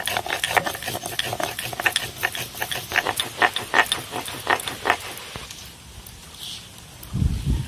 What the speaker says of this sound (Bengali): আর আমি এদিকে সর্ষেটা বেটে নিচ্ছি।